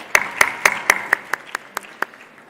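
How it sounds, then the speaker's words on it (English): A few hands clap in a sparse, evenly spaced rhythm as the audience at an investment forum applauds the panelists, the claps fading slightly toward the end of the short burst. "A big round of applause to all our esteemed panelists"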